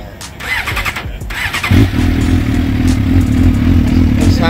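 A motorcycle engine is started nearby: a short clatter of cranking, then the engine catches and settles into a loud, steady idle rumble.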